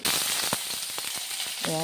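Cut onion dropped into oil left from frying fish, frying loudly in a pan with a steady bright sizzle and occasional pops close by.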